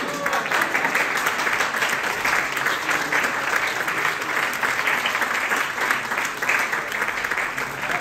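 Steady, dense audience applause at a concert premiere, continuous clapping from a crowd throughout without pause.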